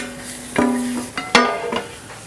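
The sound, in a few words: chicken being added to a pan and stirred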